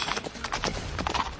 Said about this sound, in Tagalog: May kabayo pa yun.